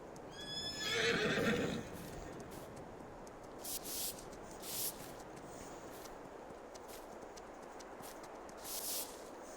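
A horse in Farming Simulator 22 gives one loud, close whinny, followed by sparse hoof clops and occasional soft bursts of movement against a quiet background.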